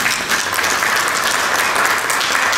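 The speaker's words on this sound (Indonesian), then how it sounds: "Tepuk tangan buat Ibu Anaci dan teman-teman." Loud, steady applause from a gathered crowd at a regional association assembly in NTT, Indonesia, sustained evenly with no speech over it.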